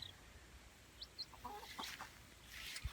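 Backyard chickens clucking softly, a few short scattered clucks and calls at some distance over quiet outdoor background, no talking.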